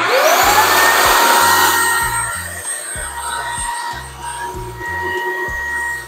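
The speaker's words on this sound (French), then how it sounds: "Et on va voir comment s'en sort notre aspirateur." A Dreame H12 Dual wet-dry stick vacuum runs loudly up close, a steady high motor whine with a rising spin-up at the start, while it cleans spilled soy sauce with thudding, rhythmic strokes across the floor.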